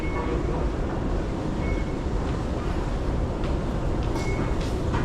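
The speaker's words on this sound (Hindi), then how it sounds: "देखिए ये रहा इनका मेट्रो स्टेशन बुगीज़ का।" Inside Bugis metro station in Singapore, a constant loud rush of train and station noise fills the space, steady rumbling with faint higher tones and no clear pauses.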